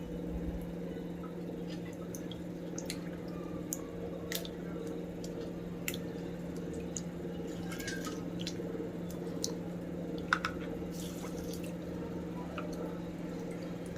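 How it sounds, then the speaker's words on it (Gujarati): Rice and moong dal being washed in water for khichdi: soft wet squishing and scattered drips and splashes as the grains are rubbed by hand, faint and close, over a quiet steady background hum, with no talking. "આ રીતે 3 પાણીથી ખીચડી ધોવાની."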